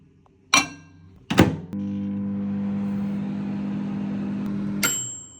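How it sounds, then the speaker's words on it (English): A microwave oven heating lamb broth: door clicks shut, a steady loud electric hum with harmonic whine runs for about three seconds, then ends with a sharp beep as the cycle finishes. "So I'm just going to pop in the microwave for about 1 minute."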